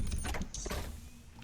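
An Iron Man suit opening to eject the player in the Roblox game, a brief mechanical whirring and clattering slide that fades out quickly.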